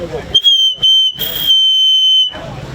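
A man blows a shrill whistle through his cupped hands, thumb and finger shaped into a chamber, sounding two sharp blasts and then one long, loud, steady tone, all close and clear with no talking.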